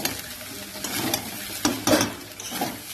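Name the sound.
stirring food frying in a pan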